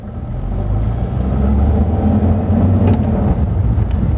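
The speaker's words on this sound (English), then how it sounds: "So into first gear and we set off" A car pulls away in first gear and shifts up into second, its engine a steady, loud low drone that swells as it accelerates, with a brief blip around the gear change.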